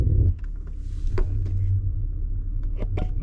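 A 2014 Audi A8 luxury sedan rolls along with a low, steady engine and road rumble, punctuated by faint clicks and knocks from the cabin.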